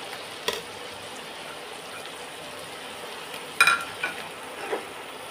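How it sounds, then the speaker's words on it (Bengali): Ground onion paste fries in oil over a low flame, a soft continuous sizzle with a few brief clinks and scrapes of stirring. "এবার এটাকেও একটু ভালো করে তেলের মধ্যে ফ্রাই করে নেব।"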